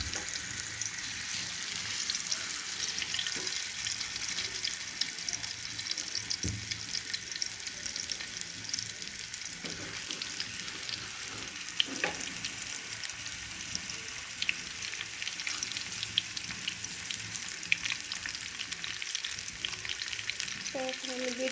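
Tilapia fish fry in hot oil in a frying pan with a constant crackling sizzle, broken by occasional light clinks and splashes of cooking.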